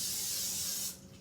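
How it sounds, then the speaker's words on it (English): Cooking spray coats a baking dish for a crescent roll casserole in a single close, steady hiss lasting about a second, then stops, leaving quiet room tone. "we want to give it a nice coat of cooking spray."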